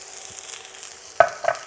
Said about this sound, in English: we're going to add half of our oil to our pan, swirl that around, and we're going to add our onion in